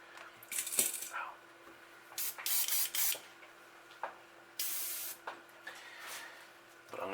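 Bursts of spray paint hiss over a stencil, several short sprays then a longer burst, close and alone.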